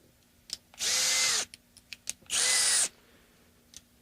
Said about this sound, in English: on a nylon string guitar, I always use the power tool.